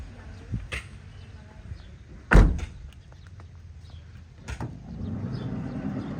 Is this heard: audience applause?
no